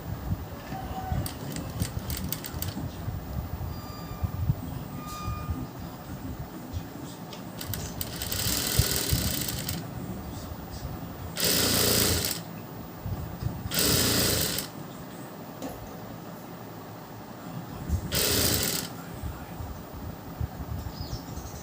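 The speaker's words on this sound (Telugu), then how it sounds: "ఇది ఇలా సన్నగా కుట్టుకోవాలి సైజు సన్నగా రావాలంటే సన్నగా కుట్టుకోవాలి ఈ లూప్తో" A sewing machine stitches a thin fabric strip using loop thread, its motor whirring in several short, even runs between pauses, with someone talking throughout.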